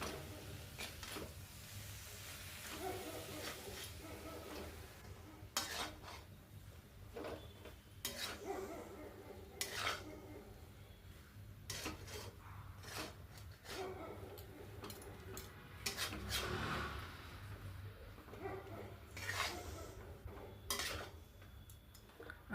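Masala pulihora, a coconut tamarind rice with salt and chopped coriander, is mixed in a metal vessel, producing faint, scattered scrapes and clinks of a spoon against the pot over a steady low background, with no voices.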